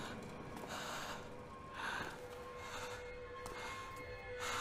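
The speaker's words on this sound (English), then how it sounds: "The breathing was like really intense there, and it was kind of making me anxious" Heavy, anxious first-person breathing from a Chainsaw Man anime episode, a series of close, loud gasps and snorting inhales and exhales in an uneven rhythm with faint background tones.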